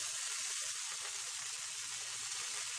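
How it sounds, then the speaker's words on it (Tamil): Curry leaves and green chillies frying in hot oil in a pan while making kara kuzhi paniyaram, a steady, dense sizzle and hiss running unbroken throughout, close and even, with no voices. "கருவேப்பிலை பொரிஞ்ச உடனே நம்ம வெங்காயம் சேர்த்து வதக்கிடலாம்"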